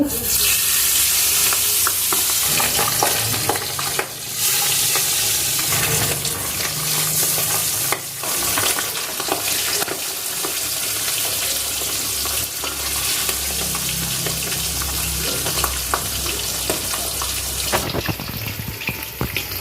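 Pabda fish frying in hot oil in a pan, a loud, dense, continuous sizzle and spatter held throughout, close up with occasional stirring noises and no speech.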